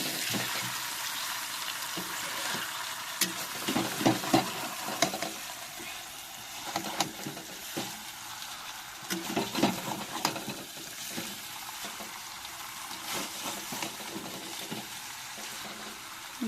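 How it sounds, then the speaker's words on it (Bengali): Potatoes and chicken stir-fried in a pan for a spicy red chicken curry, with steady sizzling and repeated scraping stirs, close and moderately loud, with no talk. "দেখো আলুটা দিয়ে কিন্তু আমি কষাচ্ছি এদিকে।"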